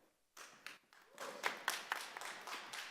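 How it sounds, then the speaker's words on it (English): An audience claps at a city council meeting, starting as a few scattered claps and building into steady applause. The claps are fairly faint and heard without any talk over them. "Please refrain from the clapping."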